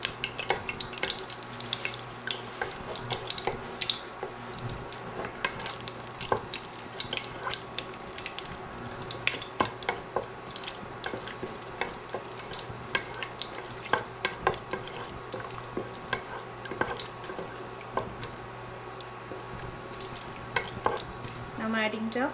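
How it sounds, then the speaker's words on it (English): Whole spices crackling in hot ghee, a dense run of sharp pops and spits over a continuous sizzle, with clinks and stirring close by throughout. "Ghee is hot. Now I'm adding all the whole spices and let them get infused in the oil"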